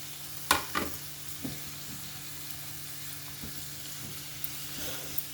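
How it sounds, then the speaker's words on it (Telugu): Grated bottle gourd going into a hot pan for a ragi vegetable soup, a couple of sharp scrapes and clatters early on, then a low steady sizzle with an occasional stir, quiet and close. "ఇప్పుడు ఆనపకాయ తురుము వేస్తున్నాను."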